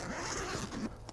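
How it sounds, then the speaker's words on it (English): A single quick zipper pull opens a fabric ATV rack storage bag, close up and crisp, with a rasping run of teeth lasting about a second. "let's unzipper"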